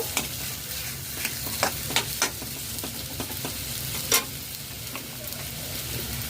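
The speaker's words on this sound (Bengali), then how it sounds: "ভালো করে নাড়াচাড়া করে মিশিয়ে নেব" Pav bhaji being stirred and mixed in a frying pan, with repeated scraping strokes of a spatula over a steady soft sizzle, a few louder knocks along the way, no voices.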